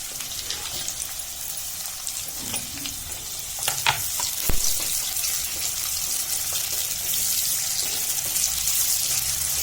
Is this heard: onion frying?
yes